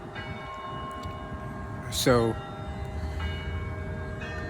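A nearby church bell tolls once, a single ringing stroke that briefly rises above faint background noise while a person speaks quietly.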